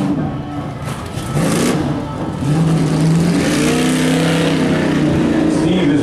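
A tough truck engine revs hard at a dirt track race event in West Plains, a loud throaty roar rising and falling in pitch as the truck accelerates, close and continuous throughout.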